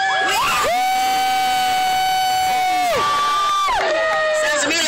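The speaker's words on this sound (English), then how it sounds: "Sounds to me like Ben came with his own cheering section." A crowd cheers and shouts at a racing pigs show at the Salem Fair, with loud sustained whoops and high voices rising and falling over a few seconds, close and continuous.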